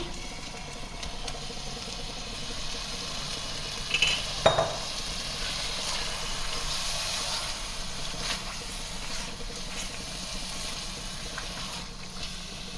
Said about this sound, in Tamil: அந்த சிக்கனை எடுத்து மசாலாவோடு சேர்த்து நல்லா கலந்து விட்டுக்கலாம்